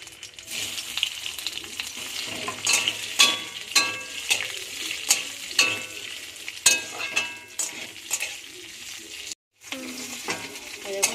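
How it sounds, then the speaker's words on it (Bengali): Potatoes fry with a dried red chili in a hot pan, a constant crackling sizzle broken by repeated scraping stirs and a brief near-silent gap, nearby and without talking. "এখানে একটা শুকনো লঙ্কা দিয়ে দিলাম দিয়ে আমি আলুটা ভালো করে ভেজে নেব"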